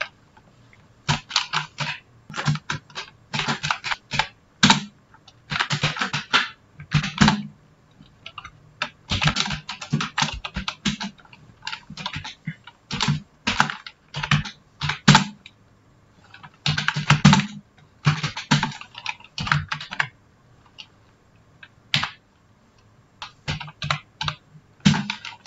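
Rapid bursts of keystrokes on a computer keyboard while text is typed into a CorelDraw banner design, clicking in uneven runs with short pauses between them, close and clear with no talking.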